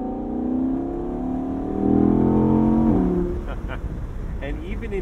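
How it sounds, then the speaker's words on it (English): An Audi R8 Performance Spyder RWD with active exhaust baffles revs up through the gears, a loud rising engine note climbing then dropping at a shift, heard from inside the car with a voice talking over it. "the engine absolutely wakes up and it finds its voice with the active baffles in the exhaust"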